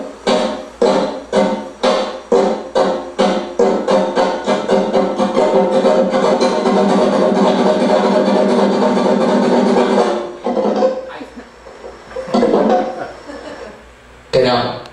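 Flamenco guitar played by a woman with forceful, continuous strikes on the strings, loud close rhythmic strums in quick succession that merge into a dense sustained roar, then break off into a few scattered strokes.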